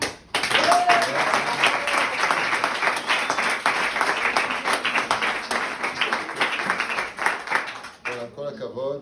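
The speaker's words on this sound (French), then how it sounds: "On peut les applaudir très fort" Guests in a family home applaud the host family at a rabbi's gathering, a loud, close burst of many hands clapping that holds steady, then a voice speaks briefly as it ends.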